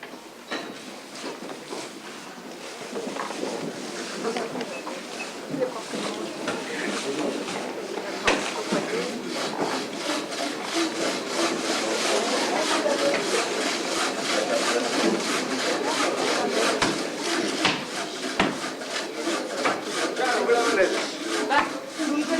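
Repetitive rasping of a saw cutting through wood at a logging site, strokes growing louder and more rhythmic, with a voice speaking over part of it.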